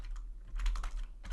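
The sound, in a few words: typing on a computer keyboard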